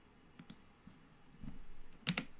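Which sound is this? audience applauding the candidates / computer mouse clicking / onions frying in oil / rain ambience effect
computer mouse clicking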